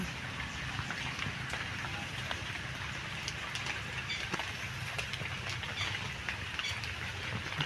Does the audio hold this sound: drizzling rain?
yes